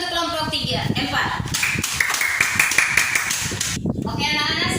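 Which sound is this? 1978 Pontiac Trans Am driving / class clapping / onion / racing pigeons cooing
class clapping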